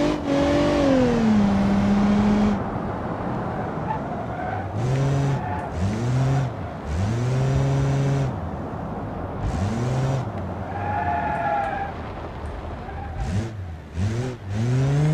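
A powerful sedan in BeamNG.drive revs hard through a handling circuit, its engine pitch repeatedly climbing and dropping with gear changes and lift-offs, joined by tire squeal as it corners.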